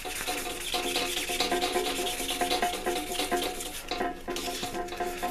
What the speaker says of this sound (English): Okay, I'm going to call that done with the sanding.